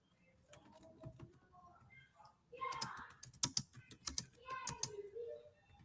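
A computer keyboard clatters in quick irregular bursts of key taps at close range, with someone talking intermittently over the typing.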